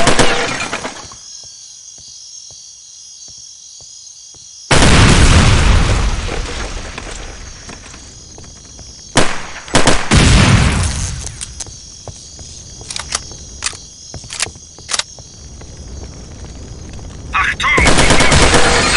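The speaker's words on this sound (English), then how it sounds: "fires are detonating explosives all over the compound" Explosives detonating across a compound in Counter-Strike: Condition Zero, with fires around: loud sudden booms and bursts of gunfire-like cracks, separated by quieter stretches of ambient hum.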